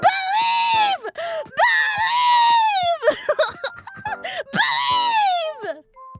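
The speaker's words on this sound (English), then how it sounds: "I'm sorry for screaming." A person screaming in long, loud, wavering wails, several drawn-out cries broken by brief gaps, close and raw, with no other voices.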